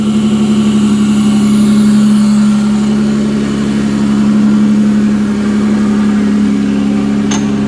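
Engine of a 1992-1996 Toyota Camry V6 idling in drive on a stand-alone wiring harness, a steady loud low hum throughout, close by, with no talking.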